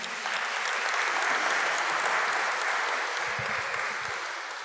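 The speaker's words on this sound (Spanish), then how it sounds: "Dale un aplauso al Señor." Sustained audience applause fills a church service, dense and steady throughout, with a few louder individual claps near the end.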